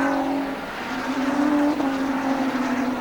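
A 1985 Renault Alpine race car in the Europa Cup at Spa-Francorchamps roars past, a loud sustained engine tone that rises and shifts as the car goes by the grandstands.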